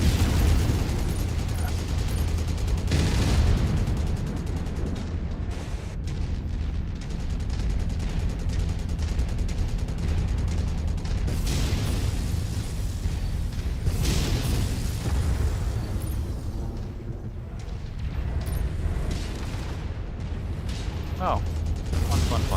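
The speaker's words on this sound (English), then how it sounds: "Incoming missile." Missiles explode during a MechWarrior video game battle, giving a dense, continuous barrage of loud booms and mechanical rumble that carries on throughout.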